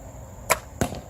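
An arrow leaves a yellowheart-and-bamboo-backed bow during student archery practice: two crisp, close snaps about a third of a second apart, with no talk.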